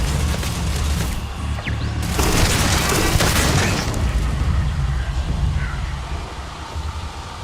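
Nova light gun firing in Starfield, a run of booming shots with a loud, dense burst in the middle, set against steady rumbling background noise.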